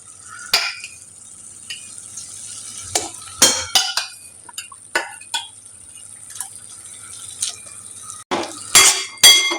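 Boiled drumstick pods are stirred in a pan with a spatula, giving a series of sharp scraping clinks and knocks against the metal at an irregular pace over a faint sizzle, close up and with no talking.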